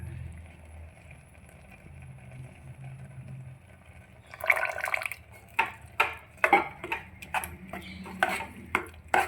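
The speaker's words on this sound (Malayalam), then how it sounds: "ശർക്കര പാനി ഒഴിക്കുക." Jaggery syrup poured into a pan of cooked pulses, a soft low rumble giving way to a run of sharp spoon knocks and scrapes against the metal as the mixture is stirred, close and fairly clear.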